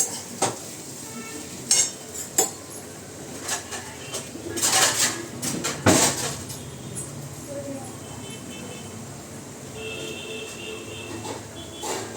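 Potatoes are stirred and fried in a pan over a gas flame, with scattered clinks and scrapes of a utensil against the pan over a faint sizzle, while a bird calls now and then in the background.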